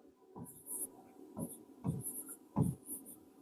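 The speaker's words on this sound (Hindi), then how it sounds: "तो हृदय की गतिविधि को हम इधर से लिखते हैं" Marker or chalk scratching on a board during a classroom lecture on the human heart: four short, separate strokes with small pauses between them, close and fairly quiet, with no talking.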